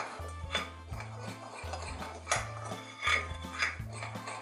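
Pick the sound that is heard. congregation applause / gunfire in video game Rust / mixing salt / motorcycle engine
mixing salt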